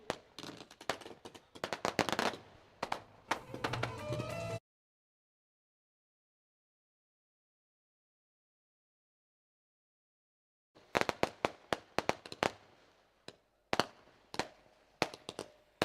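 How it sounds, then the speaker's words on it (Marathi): Firecrackers and fireworks burst at a welcome ceremony, sharp rapid cracks in quick irregular volleys, then a silent pause before another run of loud pops and bangs. "फटाक्यांच्या आतिषबाजी आणि जल्लोषात हा स्वागत या ठिकाणी करतो आपण"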